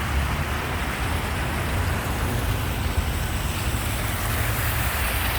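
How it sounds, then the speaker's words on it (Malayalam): Water fountain at the Burj Khalifa in Dubai, with its jets rising and falling: a steady, loud wash of splashing water, like heavy rain, roaring continuously without pause and with no talk. "നല്ല രസം ഇങ്ങനെ കുറയും കൂടും ചെയ്യും വെള്ളച്ചാട്ടത്തിൻ്റെ"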